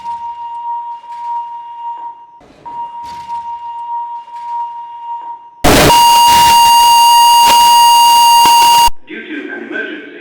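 Station emergency alarm: a steady electronic tone pulses with short gaps, then cuts to a much louder blaring burst for about three seconds, followed by a brief muffled voice.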